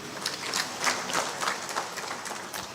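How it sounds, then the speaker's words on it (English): Audience applause at a formal national science and technology council meeting in Nigeria, a steady wash of many hands clapping at moderate volume, with faint voices mixed in. "He deserves a bigger round of applause"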